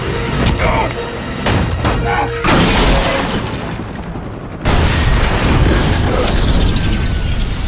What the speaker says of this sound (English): a massive chain reaction crash blocks the entire tunnel, trapping John and Matt in a sea of wrecked cars.